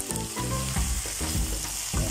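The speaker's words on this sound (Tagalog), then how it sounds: "Haluin lang ng konti, no?" Eggplant frying in a pan for a tilapia dish, stirred with a utensil; a loud, steady sizzle runs throughout with intermittent scraping and stirring strokes, no voices.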